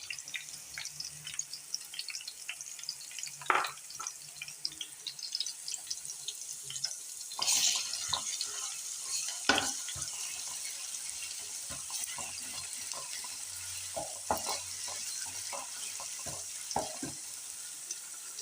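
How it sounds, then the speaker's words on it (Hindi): Golden-brown onions frying in a pan as garlic ginger paste goes in, for a daal and cumin rice dish: a faint, steady sizzle with scattered sharp clicks and stirring scrapes, close but quiet, and no one talking. "अब हम इसमें डालेंगे लहसुन अदरक का पेस्ट।"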